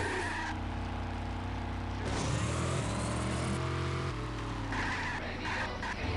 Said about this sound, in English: Yeah, warning, loud cop cars.